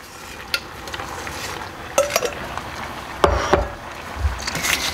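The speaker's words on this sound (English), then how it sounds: "We're gonna stir in 8 cups of thinly sliced apples." Thinly sliced Honeycrisp apples being stirred with vanilla in a bowl, giving soft scraping and clinking strokes at close range, with a few sharper knocks of the utensil against the bowl.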